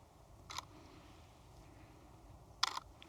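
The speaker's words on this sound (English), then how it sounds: "I'm going to take a photo there" A DSLR camera shutter fires twice, sharp brief clicks about two seconds apart, close and faint against quiet backyard background noise.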